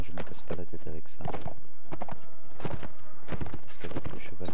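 Horse hooves gallop in the video game Mount & Blade Warband, a rapid, close clip-clop rhythm that runs steadily beneath continuous talking.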